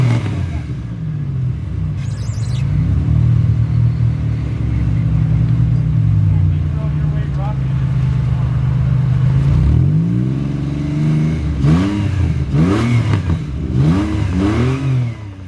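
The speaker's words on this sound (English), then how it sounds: "He's trying to get momentum any way he can to get that car freed up and moving forward." A rock crawler's loud engine revs and surges in repeated bursts on rocks during a competition, pitch rising and falling as it strains, with a steady low rumble throughout.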